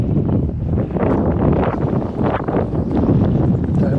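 Steady, loud wind buffets a microphone outdoors on a fishing outing, a continuous rumbling roar with gusty swells and no pauses.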